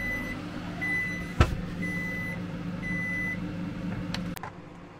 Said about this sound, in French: Le micro-ondes vient de terminer, 2 minutes 30.